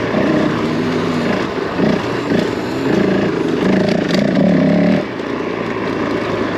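Honda CRF450L enduro motorcycle ridden through a quarry, its engine droning steadily and loud with small surges in pitch, then easing off near the end; no talking.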